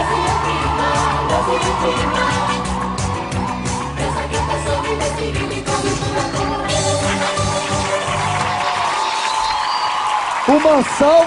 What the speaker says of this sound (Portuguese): Uma salva de palmas para a versão de camelô do Menudos